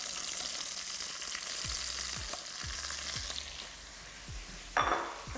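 Pickling onions and button mushrooms frying over high heat with pancetta in a pot for a chicken hotpot, a steady close sizzle broken by several soft stirring scrapes and a brief clink of utensil near the end.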